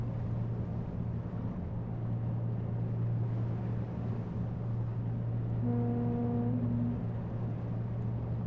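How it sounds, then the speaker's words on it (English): A ship's foghorn in a ship simulator game sounds as one deep, steady blast over a constant low engine drone, fairly distant and lasting just over a second. "I wish they wouldn't play random foghorn sounds, because I keep thinking there's a ship nearby."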